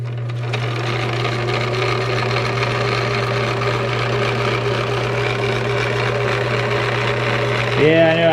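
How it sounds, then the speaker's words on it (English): A sewing machine runs in a long continuous steady hum and drone while stitching roll bar covers for a Cobra Daytona build, up close and loud, ending with a brief shift in pitch as it stops. "let me get this thing rethreaded, and we'll continue to sew"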